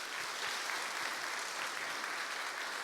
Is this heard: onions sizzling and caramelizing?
no